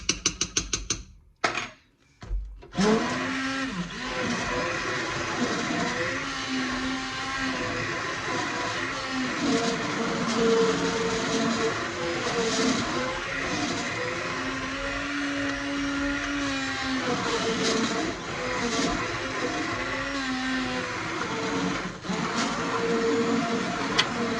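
Blender whirring through coconut curry squash soup, a long steady mechanical drone with rising and falling motor pitch after a few brief stops and restarts at the start, no talking.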